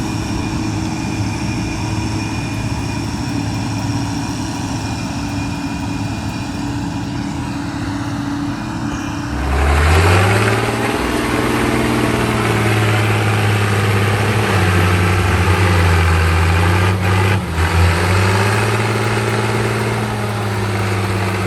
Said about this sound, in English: One tractor tried, then two. Finally, it took three working together to pull it free.